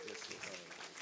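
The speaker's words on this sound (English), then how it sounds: "Give him a round of applause as he comes." Conference attendees at Excelsior Community College clap as a speaker walks up to open the AI lab, a faint, distant patter of applause with a voice carrying over it.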